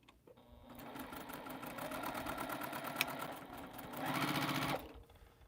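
Sewing machine stitching an extra line on a quilt, a steady close mechanical whirr that runs continuously for several seconds, speeding up slightly toward the end before stopping.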